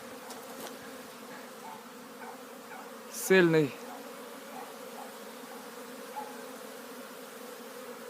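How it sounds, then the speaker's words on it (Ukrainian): Steady, dense buzzing of many honeybees on a strong orientation flight close by, continuing throughout, with a short spoken word partway through. "Бджоли гарно облітуються."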